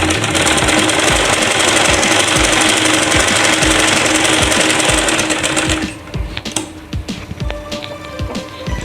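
Sewing machine stitching a salwar waistband, loud and close: a steady rapid mechanical whir with a fast needle rhythm, then the motor eases into slower, uneven stitching bursts toward the end, with no voices.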